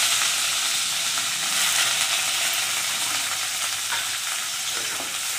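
Chopped onion hisses and sizzles steadily in hot oil for a lau posto dish, a dense, continuous fry close at hand with faint stirring and no voices.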